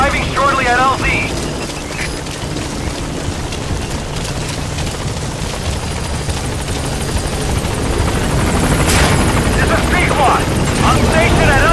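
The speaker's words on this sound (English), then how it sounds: "Chopper will be arriving any minute." A helicopter arriving at a landing zone in a Metal Gear video game, with a loud, steady rotor roar throughout and brief radio-style voice chatter at the start and near the end.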